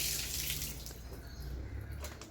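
Water poured over a dog during a bath with shampoo, splashing and trickling steadily and close by for a couple of seconds.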